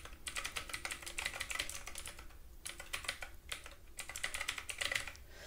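A URL being typed on a computer keyboard: quick, close clusters of key clicks in two bursts separated by a short pause, with no voice over them.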